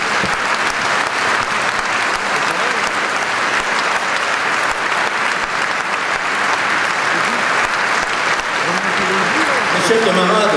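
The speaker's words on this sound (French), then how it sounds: "le président mérite tous nos applaudissements" A large crowd at a Socialist Party congress in Poitiers applauds, with sustained, dense clapping that stays loud and even throughout, and voices are audible within it.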